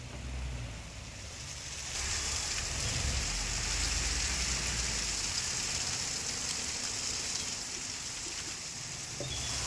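Steady heavy rain falls near a flooded temporary embankment on the Kolad highway at Pirangut, a dense continuous hiss that swells after the first couple of seconds and holds without a break, with no voices.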